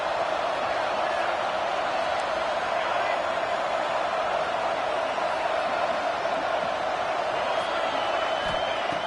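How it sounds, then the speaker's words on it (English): A stadium crowd in the College Football 26 video game roars steadily as a dense, continuous wash of noise, loud and sustained throughout a red zone defensive stand. "here comes the noise. This crowd is trying to inspire this defense to make a big red zone stop."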